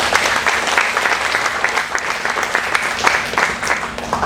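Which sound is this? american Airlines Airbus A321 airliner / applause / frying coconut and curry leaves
applause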